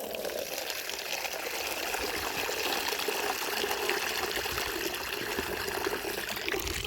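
Clean water is poured into a chickens' water bowl inside a poultry run, a steady splashing trickle and gush that runs without a break for several seconds, close and moderately loud.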